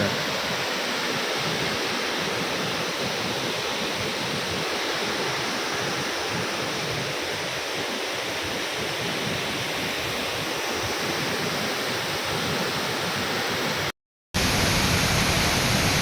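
Dev Kund waterfall in Mayurbhanj, Odisha, roars as a dense, unbroken rush of falling water, loud and close, with a brief dropout near the end.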